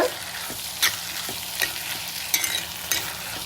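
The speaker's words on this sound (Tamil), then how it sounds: "இப்போ பாருங்கள், கொஞ்சம் நல்லா பூண்டு வெங்காயம் வதங்கிட்டு" Garlic and onion sautéing in a pan for a village-style karakuzhambu, a steady close sizzle and crackle broken by several sharp scrapes and clinks of stirring, with no voices.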